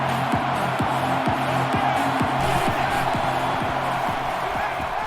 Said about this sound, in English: It's arguably the loudest crowd in the nation, and they are turning it up a notch.